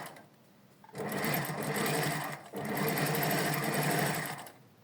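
A sewing machine stitches fabric with a fast, steady mechanical whir and rattle, running in reverse in two close bursts separated by a brief pause, near and fairly loud.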